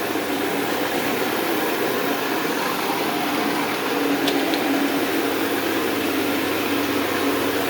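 A CRB carpet cleaning machine runs steadily in an empty house, a loud continuous motor hum and brushing whir with no pauses and no voices.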